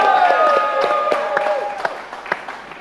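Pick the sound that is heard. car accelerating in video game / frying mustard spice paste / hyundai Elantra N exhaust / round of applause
round of applause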